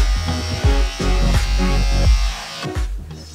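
An electric hair clipper with a long guard attachment set up to 44 millimeters cuts hair during a self-haircut, its steady loud buzz pulsing slightly as it passes through the hair, close and with no talking.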